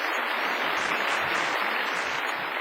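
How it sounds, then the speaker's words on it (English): Audience applause for a presenting team fills the space as a steady, even wash of many hands clapping, moderately loud and uninterrupted throughout. "Let's give them a round of applause."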